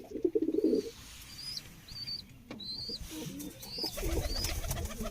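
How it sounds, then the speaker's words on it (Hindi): Pigeons kept by a pigeon club coo in two low, throaty bursts, one at the start and one near the end, with thin chirps and a brief flutter of wings in between. "ये देखो गाइस, ये है जी कबूतर।"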